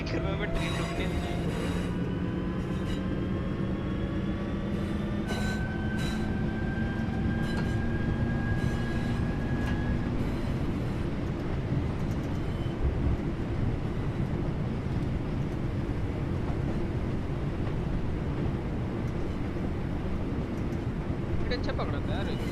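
Train running in the game Train Sim World 5: a continuous loud rumble of rolling wagons with tonal wheel squeals and whines sliding upward early on, steady throughout.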